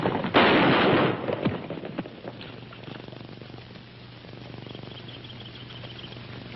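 Gunfire in a western film: a loud sharp burst of shots opens, followed by a few scattered quieter cracks over a low steady hum.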